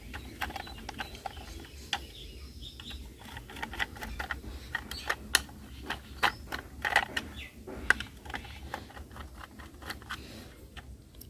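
Screwdriver tightening small screws into a plastic toy city bus, with quiet irregular clicks, ticks and ratcheting creaks close up, no talking.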